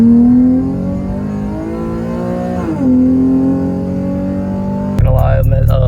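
An Infiniti G37 fitted with a budget exhaust and test pipes revs up and down in a raspy, droning rise and fall, close by and loud, with a sharper burst at the end.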